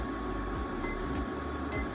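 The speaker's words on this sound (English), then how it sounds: "It's a low noise drying machine for doggies." A PetieTec low-noise pet drying machine running for a Maltese dog, giving a steady, even mechanical whir and airflow hum with a few faint clicks, continuous and close, without voices.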